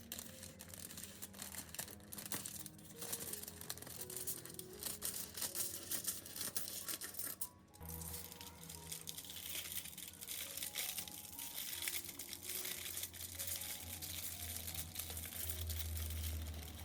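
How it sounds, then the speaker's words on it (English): Aluminum foil crumpled and shaped by hand into a small ring to hold a plate up inside a steamer, with steady crinkling and rustling throughout, close and fairly loud, alongside faint steady tones of background music. "Make a small ring or stand out of aluminum foil to elevate the plate inside the steamer."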